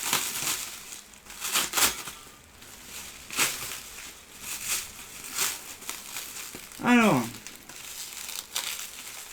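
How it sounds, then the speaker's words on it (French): Cellophane wrapping is handled during an unboxing, giving intermittent crisp crinkles and crackles with short gaps, while a person talks and makes a brief vocal sound in between. "Non, du papier cellophane."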